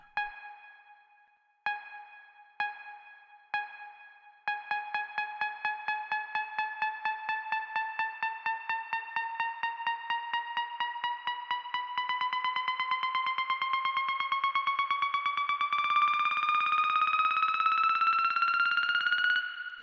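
A laser riser synth effect built in FL Studio for melodic house: a few short stabs, then a steady pulsing tone sweeping slowly upward in pitch and growing brighter and louder over about twenty seconds, alone.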